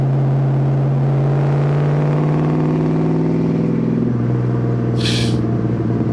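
A 1965 Chevrolet El Camino with a five-speed gearbox cruises along a road, its engine giving a steady, close, low drone that dips in pitch around a gear change, with a brief hiss near the end.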